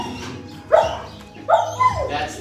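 A dog gives a few short barks and whimpering yips indoors, close and fairly loud, spaced out over a couple of seconds, with a low hum in the background.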